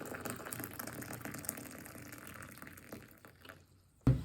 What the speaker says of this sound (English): I'm gonna pour some hot water in there.